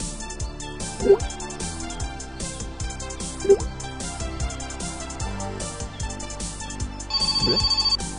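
A phone rings in the video game My Winter Car, a few repeated electronic ring bursts standing above a busy game soundtrack, with a brighter trill near the end.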